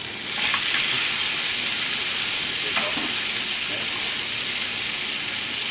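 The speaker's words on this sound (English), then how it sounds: "we add our green beans to our butter" Green beans hit melted butter in a pan and sizzle loudly, a dense, steady frying hiss that starts abruptly and carries on close and unbroken.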